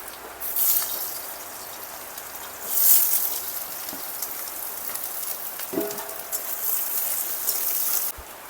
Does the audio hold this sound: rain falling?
yes